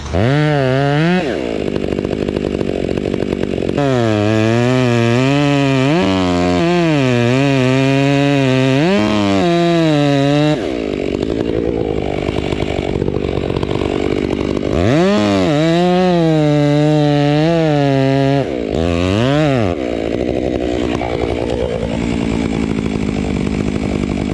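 Chainsaw engine revving hard and bogging as it bites into a 26-inch-diameter, 140-foot-tall tree being felled, loud and close, with repeated rising and falling pitch sweeps and steady idle between cuts.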